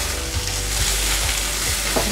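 Lauki halwa with dry fruits is stirred in ghee in a pan, giving a loud, steady sizzle with frying crackle and a spoon scraping in repeated strokes close by.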